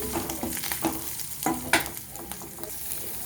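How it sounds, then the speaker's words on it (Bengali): Grated ginger sizzles in a pan while it is stirred for a vegetarian soybean curry, a steady low frying hiss with repeated scraping strokes of a spatula, close-up and without speech. "আদাটাকে কিছুক্ষণ নেড়ে চেড়ে নেব"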